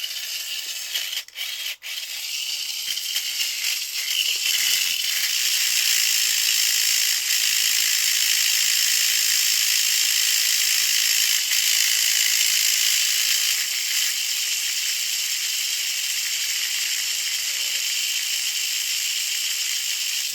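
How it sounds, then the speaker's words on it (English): A Mini 4WD toy car with a stock motor straight from the box spins on a speed checker roller, producing a steady, loud, high-pitched whine that sustains for about twenty seconds after a few clicks at the start. "Let's go check the speed checker. And let's do this. Stock motor right out from the box."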